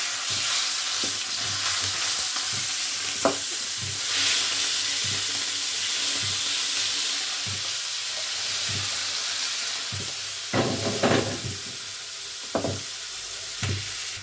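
Peppers fry in oil in a pan, a continuous close sizzle and hiss with occasional scrapes and clinks of a utensil, a few sharper stirs toward the end.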